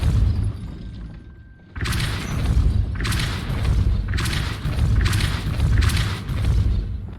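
Depulso spell cast in Hogwarts Legacy to push a mechanism and raise a gate: a sudden forceful whoosh and thump, followed by a string of heavy grinding, clanking booms at steady intervals.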